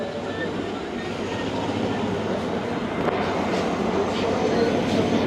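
Inside an economy class coach of the Pak Express passenger train between Lahore and Khanewal, a steady low rumble and rolling clatter continues throughout without a break.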